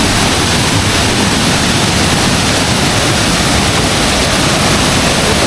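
Rushing water at Bukal Falls, a loud, dense, continuous roar of strong current, close by and unbroken, with no voices over it.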